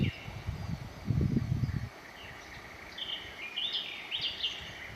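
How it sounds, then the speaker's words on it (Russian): Faint birdsong drifts through a forest beside the Belaya (Agidel) river, with light chirps and trills in the distance after a short burst of low rumbling noise at the start. "как птички поют. Слушайте."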